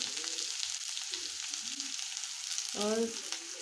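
Garlic and ginger sauté in a pan over low heat, a soft, steady sizzle running underneath, joined by a brief clattery burst near the end.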